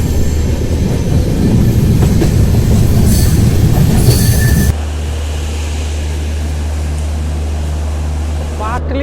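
The Dibrugarh Rajdhani Express runs on rails at night near Patna, a loud, steady rumble of wheels and carriage noise whose tone shifts partway through, with a faint high squeal near the end.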